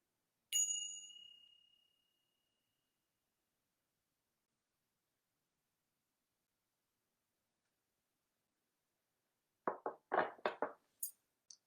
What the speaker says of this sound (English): chime.